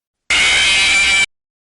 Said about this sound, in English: The other animatronics sound like this when they kill you.